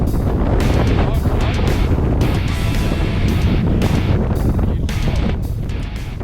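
Strong, steady wind roars across an exposed mountain top at a North Island ski field, buffeting the microphone in loud continuous gusts for the whole stretch.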